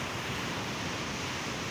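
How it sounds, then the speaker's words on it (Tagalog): Strong sea waves wash against the boulevard in Dipolog City during a low-pressure storm, giving a dense, steady roar of surf that is broad and unbroken with no voices. "Malakas ang alon at medyo malabo yung tubig kasi"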